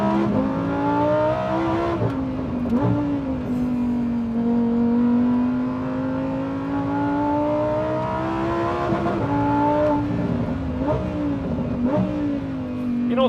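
A Lamborghini engine revs loud and close, a steady throaty drone swelling and dipping through several throttle blips, with sharper rises near the start and toward the end.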